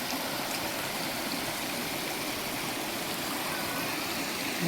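Water flows continuously in a stream, a steady broad rushing and burbling with no pauses, fairly close.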